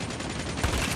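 Rapid bursts of gunfire in the multiplayer mode of the mobile shooter Call of Duty Mobile, a steady, dense stream of shots that swells slightly near the end, with no talking.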